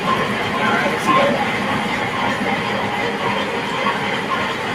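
A Milwaukee Road train rolls by with a steady, dense rumble that fills the whole stretch, and voices talk over it.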